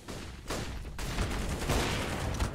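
Quiet bursts of rapid gunfire rattle in a Counter-Strike match on the Inferno map, several clustered volleys of shots layered over game ambience.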